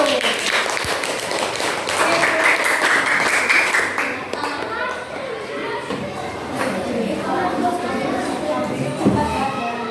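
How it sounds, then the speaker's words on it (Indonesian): A classroom of students claps after a group presentation in an artificial intelligence lesson, with a loud, busy burst of applause that gives way to overlapping voices and chatter. "Oke, beri tepuk tangan dulu."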